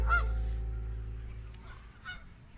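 Geese honk at a bird sanctuary in Neepawa, Manitoba, where a flock swims on the water, giving a loud nearby honk at the start, then a quieter call a couple of seconds later over a low background rumble.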